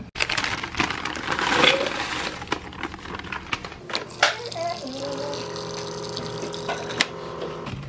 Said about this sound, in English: I'm just gonna add water to it